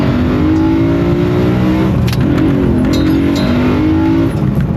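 A car engine pulls hard and loud while driving through canyons, a steady, close revving roar that rises in pitch through the run, with a brief change near the middle suggesting a gear shift.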